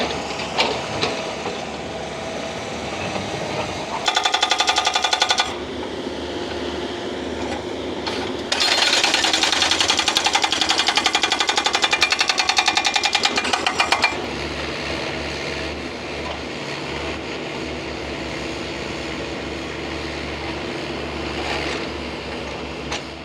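Hydraulic jackhammer breaking up layered rock on a road corner being widened, loud rapid pounding bursts separated by lower engine drone, with heavy machinery running throughout.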